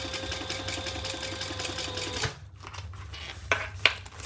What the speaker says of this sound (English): I'm just basting those sides together.